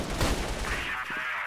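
Gunfire in a squad-based video game match, a quick burst of shots followed by a sustained ringing, buzzing tone, moderately loud with no speech over it.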